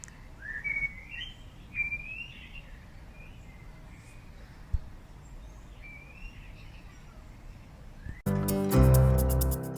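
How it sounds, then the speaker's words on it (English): Several bird calls whistle and warble at a moderate distance over soft ambient noise, then a louder burst of sound cuts in at the end. "you can hear the birds"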